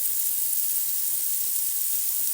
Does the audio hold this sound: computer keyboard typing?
no